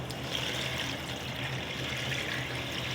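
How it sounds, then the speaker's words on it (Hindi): Water pours steadily into a pot of rice being cooked for Arabic-style chicken mandi, a continuous close splashing trickle with no speech. "मैं चावलों में पानी डालूंगी।"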